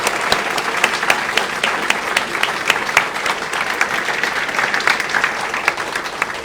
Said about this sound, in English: Yes, please, round of applause.